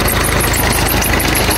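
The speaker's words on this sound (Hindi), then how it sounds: "ये ट्यूबवेल चलती पई है" A tubewell pump engine runs steadily nearby: a loud, continuous mechanical drone with a fast, even knocking throb and no breaks.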